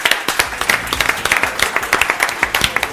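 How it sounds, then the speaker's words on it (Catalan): Steady applause from a group, many hands clapping rapidly and close by, continuous and fairly loud throughout. "Avui vosaltres us mereixeu un fort aplaudiment."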